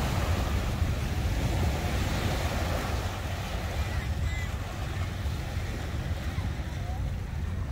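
Ocean waves roll onto the beach at Long Beach, California, a steady broadband wash of surf mixed with wind buffeting the microphone throughout.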